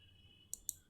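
Two quick, faint clicks of keys on a computer keyboard, spaced about a sixth of a second apart over a quiet hum, with no voice.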